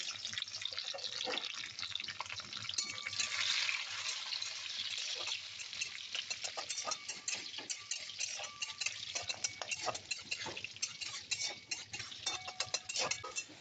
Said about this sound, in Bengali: ঘিটা গরম হয়ে গেছে, এবার দিয়ে দিচ্ছি কাজু আর কিশমিশটা, হালকা করে জাস্ট একটু ভেজে নেব।